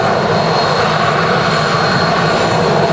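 Boeing 757 airliner at Manchester Airport, its engines giving a loud, steady, broad roar that holds evenly throughout, with no voices.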